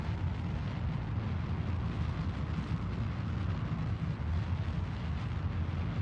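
A rocket engine burns in Kerbal Space Program during an orbital throttle burn, giving a steady, loud, dense roar that holds unbroken from start to finish without any talking.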